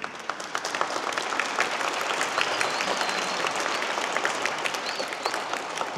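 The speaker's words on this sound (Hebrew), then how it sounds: "מותר למחוא כפיים" Audience applause fills a community hall after a Tanakh study lecture, steady dense clapping throughout with no pauses, fairly loud and close.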